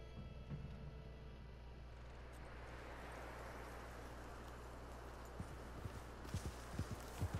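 Horse hooves clip-clopping on a farm, faint and distant at first over a low rumbling background, with several clearer hoof knocks arriving toward the end.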